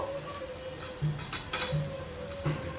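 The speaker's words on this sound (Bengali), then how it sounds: "আদা রসুন টমেটো খুব ভালোভাবে ভাজা হয়ে গিয়েছে" Ginger, garlic and tomato fry in a pan with spices, giving a steady close sizzle with a few light scrapes and clinks of a utensil against the pan.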